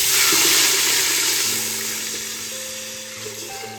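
Water pours into a metal pot with salt in it for cooking rice, a loud rush that gradually softens, its ringing tone rising as the pot fills.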